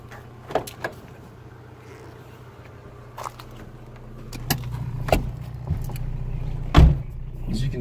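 A Hyundai Excel with a manual transmission idles with a steady low engine hum, broken by a few sharp clunks and knocks like doors and handling inside the car.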